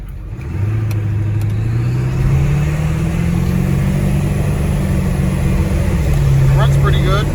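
A 1997 Ford F-350 with a 7.3 diesel engine revs up close and loud with turbo boost, its steady drone rising in pitch, holding, then easing back to a settling idle.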